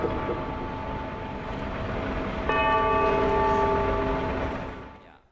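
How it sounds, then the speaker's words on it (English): A large clock bell in Tokyo rings during a national memorial for disaster victims, its tones sustaining as a steady humming resonance with a fresh strike midway, then fading out, heard alone without talk. "The iconic clock bell in Tokyo rang out 11 times to mark a minute of silence."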